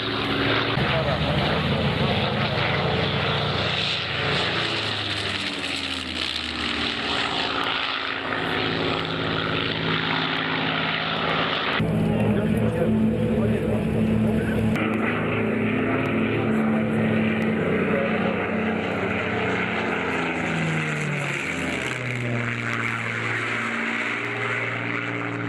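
A Spitfire propeller plane flies over Slávnica airfield in Slovakia, its engine a steady, loud droning roar that shifts in pitch as it passes, with a voice commentating over it throughout.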